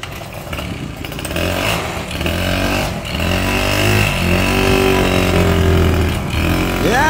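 A Honda Dio scooter engine revs loudly and close by, its buzzing note rising and wavering as it struggles to accelerate, steady throughout with no talk.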